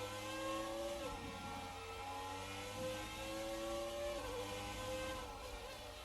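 A McLaren Formula 1 car's engine in F1 2019 at Interlagos, a steady high-pitched whine that rises in pitch as the car draws closer, holding loud and continuous throughout.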